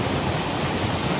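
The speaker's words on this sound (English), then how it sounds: "Water just flooding down still off the mountain." Mountain stream water flooding down along the Appalachian Trail, heard as a steady, close, full-band rush of running water with no breaks.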